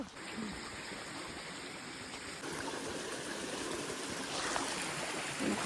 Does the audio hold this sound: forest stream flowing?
yes